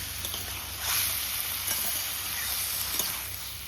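Continuous close-up sizzling of a spiced prawn and taro curry in a pan, with faint scraping and stirring clicks over a steady hiss.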